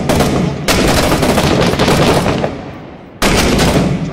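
Sustained automatic gunfire from a Six Days in Fallujah military shooter firefight, loud and dense rattling bursts with a brief break near the middle before another burst resumes, no voices over it.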